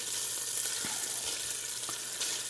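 Bacon sizzles and crackles in a pot, a steady bright frying hiss with a few soft knocks of stirring, close and alone without voices.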